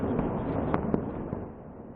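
Explosions from Russian strikes hitting apartment buildings in Kyiv at night: a few sharp, distant pops and thuds spaced irregularly over a steady broadband rumble.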